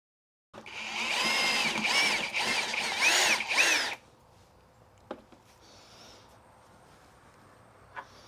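A handheld power drill bores larger holes for a battery bus bar in a LiFePO4 lithium battery install, a loud close whine lasting a few seconds with slight pitch changes, then cutting off to quiet with a couple of small clicks.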